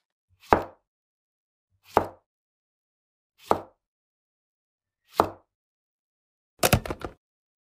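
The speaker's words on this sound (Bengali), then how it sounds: "এখন আমরা টমেটো মাঝখান থেকে কেটে নেব।" A knife cutting tomatoes in half on a board: four separate soft cuts spaced about one and a half seconds apart, then a quicker cluster of cuts at the end, close and clear against silence.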